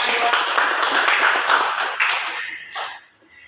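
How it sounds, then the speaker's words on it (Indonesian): A brief burst of audience clapping for two student presenters at a school dissemination event, fairly close and lively, thinning out after about three seconds with some voices mixed in. "Apresiasi dulu, tepuk tangan untuk mereka berdua"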